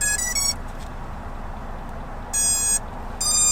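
Drone flight controller initialization beeps outdoors in snow: short high electronic tone bursts, a quick group at the start and two longer beeps later, crisp and close over a low rumbling background.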